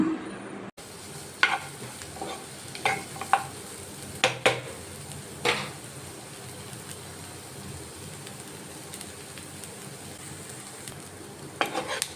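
Onions and garlic fry in a pan with a soft, continuous sizzle, broken by scattered stirring clicks and scrapes, close but fairly quiet throughout.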